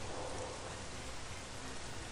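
Steady rain falls in a dinosaur video game, an even, continuous wash of hissing noise with no voices.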